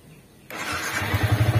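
A motorcycle that has been stuttering and suddenly stalling is started after quiet, its engine catching and settling into a loud, pulsing idle.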